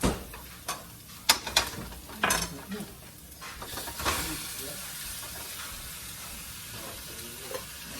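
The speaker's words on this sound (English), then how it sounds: "Now what I'm gonna do is I'm gonna add my meat." Ground meat dropped into a pan of cooked onions sets off a burst of scraping and clattering stirring, then settles into a steady hissing sizzle that continues alone to the end.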